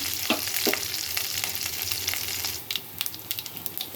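Loud steady sizzle of spices tempering in hot oil, with a few sharp pops and stirring clicks, tapering into scattered spatters.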